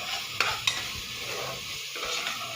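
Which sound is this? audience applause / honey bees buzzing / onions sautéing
onions sautéing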